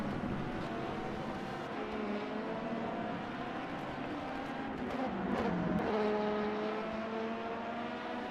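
A steady engine drone with rising and falling pitch from a race car in a video game, heard from inside the car during a six-hour endurance race at Watkins Glen, holding on throughout with a brief louder surge near the end.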